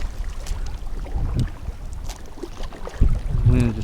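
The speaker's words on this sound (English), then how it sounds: "The wind is just too strong." Strong wind gusts buffet the microphone outdoors, a low, uneven rumble rising and falling throughout, with a few faint tonal sounds near the end.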